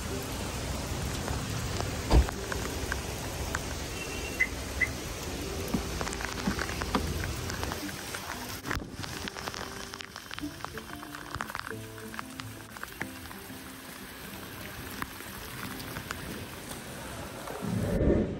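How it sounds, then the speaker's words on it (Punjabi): Heavy rain pours down outdoors and grows stronger, a dense close hiss of drops pattering on surfaces, with someone talking over it for much of the time. "ਮੀਂਹ ਬੜਾ ਪੈਣ ਡਿਆ ਯਾਰ, ਹੋਰ ਤੇਜ਼ ਹੋ ਗਿਆ ਵਾ"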